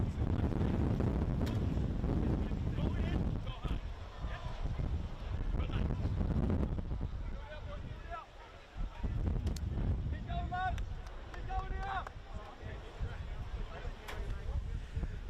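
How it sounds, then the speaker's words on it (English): Gusting wind buffets the microphone at an outdoor Australian Championship football match in Adelaide, a loud, continuous low rumble for the whole stretch, with voices talking over it and a few faint higher calls near the end. "It's a windy day in Adelaide"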